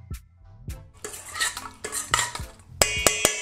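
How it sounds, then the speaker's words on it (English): Spoon stirring charred peppers with honey and dried oregano in a bowl, a series of close clinks and scrapes that grow sharper and louder toward the end. "Give that a mix."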